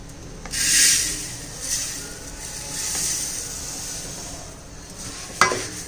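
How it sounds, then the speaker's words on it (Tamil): A spoon scrapes and stirs ragi (finger millet) flour roasting in a pan, soft rhythmic rubbing and faint sizzling with a few louder swishes and a sharp clink near the end, no voices. "இதையும் நம்ம கைவிடாம கிண்டணும்"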